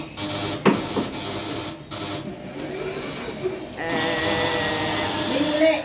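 A dairy farm's automatic milking machine rinses its cow teat cleaner, a steady mechanical whirring and hissing hum with a louder spray-like surge in the second half, while people chat nearby.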